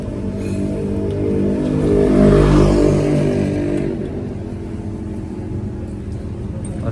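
A Yamaha RX100 motorcycle with a modified silencer idles with a close, low rumble, swells into a rev that peaks and falls back, then settles into a steady idle.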